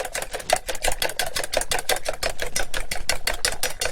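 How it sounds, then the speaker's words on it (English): Eggs with spices are whisked briskly in a bowl for French toast, a close, rapid and regular clatter of the whisk against the bowl that keeps going at an even pace. "So now we whisk this together."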